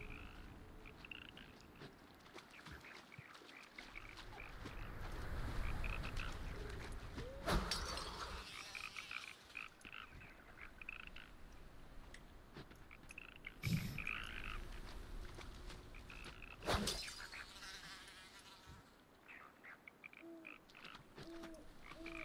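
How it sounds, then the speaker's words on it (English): Frogs croaking in World of Warcraft: Dragonflight in the Waking Shores zone, repeated low croaks scattered over soft ambient game noise, with a few louder swells and no talking. "Hey, you frogs. I'm gonna get you."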